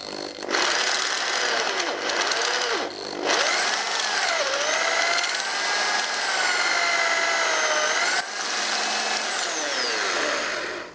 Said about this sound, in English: So I'm going to drill it out nice and steady.